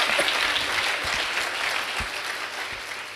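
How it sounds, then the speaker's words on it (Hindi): A church congregation claps along during a Hindi sermon, a dense, steady wash of many hands clapping together at moderate loudness for a few seconds with no talk over it. "ताली बजाकर हम प्रभु का धन्यवाद करें।"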